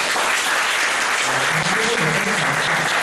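Audience applause at an independent media workers' association talk on local news, a steady dense clapping throughout the room, loud and continuous with faint voices mixed underneath.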